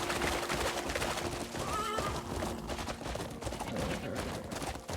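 In a video game, a horse whinnies clearly amid continuous clip-clop galloping hooves and busy game noise, close and steady throughout.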